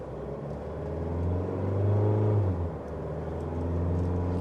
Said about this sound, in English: Accelerating up a hill, moderate acceleration still brings in a lot of engine noise.